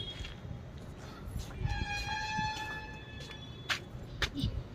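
A train pulls into a station in Bengaluru, a rumbling approach under a long tonal horn blast with brief sharper honks near the end and faint voices in the background.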